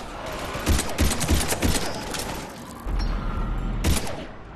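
Rapid bursts of automatic gunfire from a zombie firefight in the Xbox 360 game Mass Effect 3, loud and near, several volleys in the first two seconds, then a sustained rumble and a final sharp burst.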